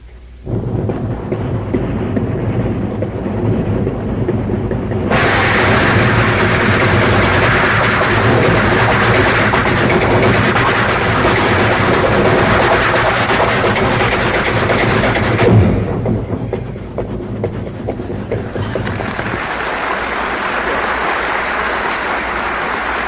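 A man vocally imitates a train's wheels clicking over the tracks, a loud, continuous rumbling roar with rhythmic clatter that shifts in tone partway through, performed alone without words.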